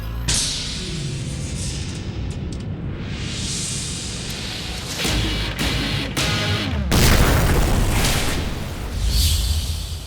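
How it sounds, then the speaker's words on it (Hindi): Bombs blast in a Bhojpuri action film: a sustained loud roar of explosions with sharp crashing bursts and heavy low rumbles that grow louder toward the end, with no talking. "बम ऐसे फोड़ रहे हो जैसे दिवाली के पटाखे"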